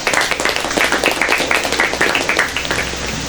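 A classroom of students claps together in a lively, dense burst of applause during a Grade 7 lesson, close and loud, steady from start to finish without speech.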